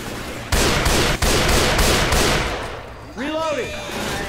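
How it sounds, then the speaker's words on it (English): Rapid automatic gunfire in Left 4 Dead 2, loud and close, with a burst starting abruptly, a brief break, then more firing, followed by game effects and a voice speaking near the end. "why are you shooting everything and everyone?"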